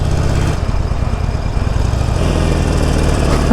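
A Harley-Davidson 48 motorcycle, freshly serviced with an oil change, runs while being ridden, its engine a steady, close, low rumbling drone.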